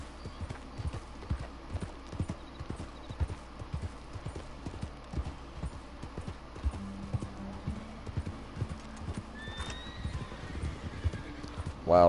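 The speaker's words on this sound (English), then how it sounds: "Wild horses." Rapid hoofbeats of several wild horses galloping in Red Dead Redemption 2, in a steady drumming rhythm, with a whinny partway through and faint voices in the background.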